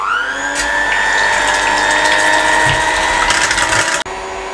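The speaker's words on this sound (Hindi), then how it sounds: "इसको अब ये जो है ना हम ये बीटर से बीट करने लगे हैं।" An electric beater whips eggs at medium speed for a sponge cake, giving a steady, loud motorized whir with a constant pitch that runs unbroken for about four seconds before cutting off abruptly.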